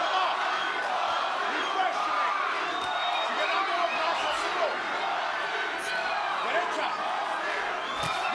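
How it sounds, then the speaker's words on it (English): A boxing arena crowd screams and chants for Vasyl Lomachenko during his bout with Jamel Ortiz, a dense, continuous roar with rising cheers, heard under commentators' voices. "You hear the crowd screaming, chanting for Loma."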